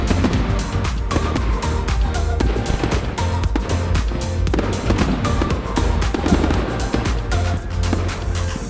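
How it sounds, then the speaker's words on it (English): Fireworks at a Rotary bonfire night display in Kidsgrove crackle and thump continuously, a loud dense barrage of bangs and popping bursts with no pauses. "Hope you're all enjoying the fireworks"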